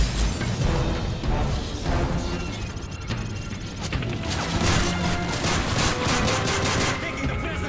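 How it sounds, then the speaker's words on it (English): Dense gunfire in Call of Duty Modern Warfare 3, with rapid machine-gun bursts, single shots and crashing impacts filling the scene, loud and continuous, with shouted voices mixed in. "Gunfire!"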